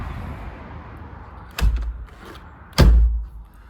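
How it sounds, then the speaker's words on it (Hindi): A door is shut in a home in the UK, giving two solid thuds about a second apart, the second louder, with faint room noise between and no talking. "एक मिनट, मैं दरवाज़ा बंद करता हूँ।"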